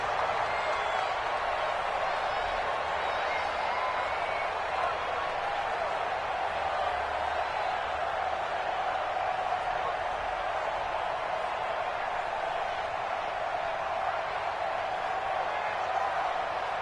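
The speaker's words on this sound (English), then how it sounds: "the crowd getting into it as we come up on a big third down" Stadium crowd in a PS4 football video game cheers steadily through a big third-and-goal moment, a dense, continuous roar with no breaks, heard without any talk over it.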